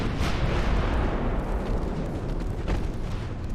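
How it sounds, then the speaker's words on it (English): A torpedo detonating against a light cruiser in the naval game Ultimate Admiral Dreadnoughts, a dense, loud, rumbling blast that fills the whole moment with low booming roar and sustained crackling wash, no voices. "Instantly got a torpedo detonation on it."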